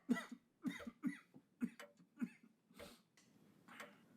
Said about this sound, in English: Somebody coughed.